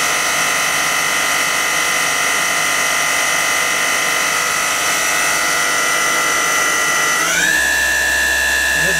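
A KSI SQC-38 CNC Swiss lathe spins at 4,000 RPM, heard from about four inches away at the sub-spindle as a loud, steady high-pitched whine that shifts pitch near the end.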